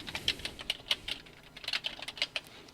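Computer keyboard keys clatter in quick irregular bursts of crisp taps, close and fairly quiet, with no talk.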